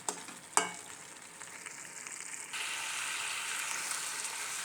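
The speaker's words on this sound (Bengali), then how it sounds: "ভালো করে নেড়ে চেড়ে কষিয়ে নেব।" Meat and potatoes stir-fried in spice paste, with two sharp knocks followed by a steady hissing sizzle that swells louder and stays constant and close.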